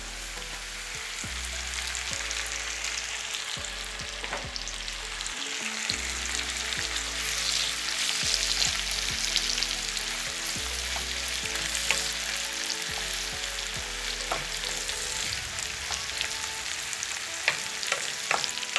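Tomatoes, mushrooms and peppers fry in butter in a pan, giving a steady, close crackling sizzle with occasional stirring scrapes throughout and no voices.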